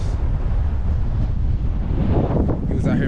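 Wind buffets an outdoor microphone beside a fishing pond, a steady low rumble that runs loud through the whole stretch with some gusty swells near the end.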